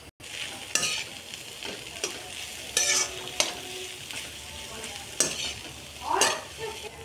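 Capsicum and cabbage roasting in a pan for street-style double egg noodles, with steady sizzling and frying broken by several sharp stirring scrapes and clatters, close and fairly loud, no talking.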